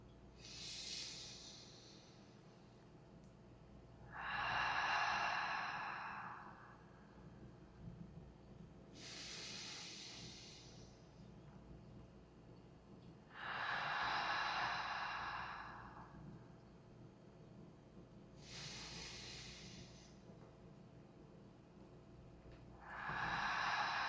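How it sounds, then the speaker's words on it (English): Three slow, deep breaths during a calm breathwork session, each a soft inhale followed by a long airy exhale, evenly spaced and close with quiet background between. "we'll take 3 deep breaths together"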